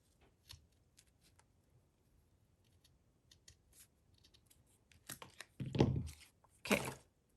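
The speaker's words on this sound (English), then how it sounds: "Because it's kind of thick cutting, since I folded, cutting through these layers." Scissors snip through thick folded layers of card stock for a window sheet card, a few quiet cuts early on, then louder crunchy cutting bursts near the end.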